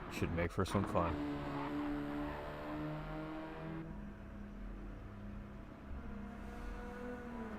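A Radical race car drives around the Brands Hatch racetrack, its engine a steady drone at mid distance with a brief rev at the start, under continuous talking.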